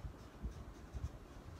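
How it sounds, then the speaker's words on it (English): Soft, faint scratching of a pen writing a word on paper or a board during a neurophysiology lesson, with light irregular strokes and no voice. "let me write it over here"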